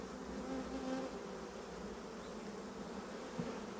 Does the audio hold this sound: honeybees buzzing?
yes